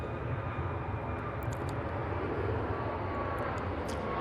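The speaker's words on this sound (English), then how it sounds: "This is the Boa Vista flight on TUI" A TUI jet airliner on the Boa Vista flight at Manchester Airport gives a steady, moderately distant engine roar for a few seconds, alone, with no talking.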